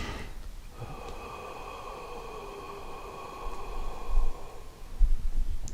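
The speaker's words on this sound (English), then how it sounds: "And I'm going to pull the breath in." One long, deep breath is drawn in during a slow breathing exercise, a breathy rushing inhale lasting several seconds, close and alone.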